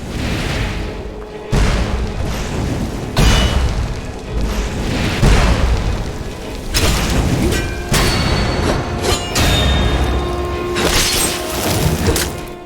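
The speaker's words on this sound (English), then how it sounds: "now you're gonna start throwing fireballs at me after I just helped you" Repeated fireball blasts from spellcasting enemies in modded Skyrim, a run of loud booming bursts roughly every second or two over a dense, continuous game soundscape, with no talking.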